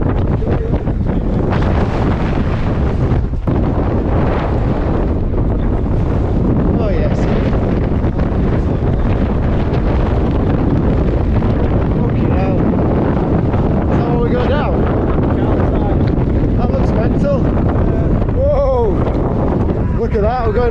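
Strong high wind roars and buffets the microphone continuously on a mountain bike ride up Skiddaw, loud and unbroken throughout, with people talking over it now and then.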